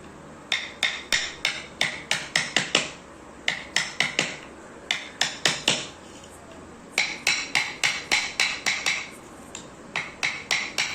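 A hammer taps a 1-inch metal strip onto a teak wood plank in quick bursts of three to five sharp, ringing metallic strikes, separated by short pauses. The hammering is close and steady, with no talking.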